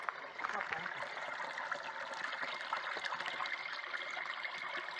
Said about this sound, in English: Here's another waterfall that sounds louder